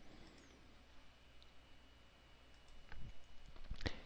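A few faint computer mouse clicks are heard while downloading Drupal 7.8 from a hosting site, with a sharp cluster near the end over quiet room noise.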